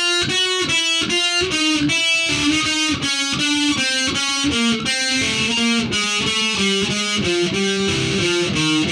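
Heavy metal distorted electric guitar plays a fast alternate-picked warm-up run that steps down across the strings, a steady stream of evenly spaced picked notes, loud and close with no talking.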